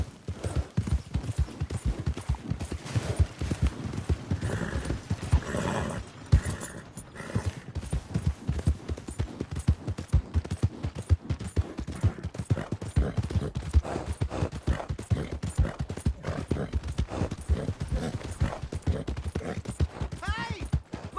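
Horse hooves clip-clop steadily through a PS4 video game scene, with an occasional neigh, while game characters talk over the clatter throughout.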